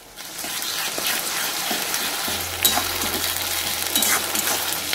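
Onions frying in hot oil with ginger, green chili and garlic paste for a spicy Odisha-style aloo dum, a steady broadband sizzle running throughout with a brief stir-like burst near the middle, close and fairly loud.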